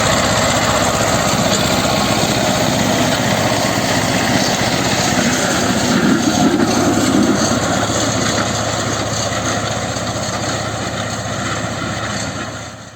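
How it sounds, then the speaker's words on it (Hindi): A tractor works in a farm field, its engine running as a loud, steady drone that holds nearly unchanged throughout before easing slightly at the end. "एक वीडियो में आप देखेंगे ट्रैक्टर किस प्रकार खेत में कार्य करता है।"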